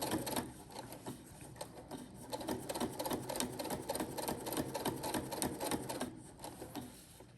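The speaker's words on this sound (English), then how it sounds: "All right, keep stitching around and I'll see you back." A sewing machine stitches around the thick fabric edges of a bowl cozy, running in a steady rapid clatter of needle strokes for several seconds with slight pauses, close and moderately loud.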